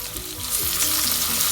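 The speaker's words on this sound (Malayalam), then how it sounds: "എന്നിട്ട് ഇഞ്ചിയുടെയൊക്കെ ഒരു പച്ചമണം മാറുന്ന വരെ നമുക്ക് നന്നായി വഴറ്റി യോജിപ്പിക്കാം." Ginger garlic paste and two chopped green chillies sizzle steadily in a hot pan for a Kerala sardine curry, a dense, continuous frying hiss with faint stirring scrapes and no voices.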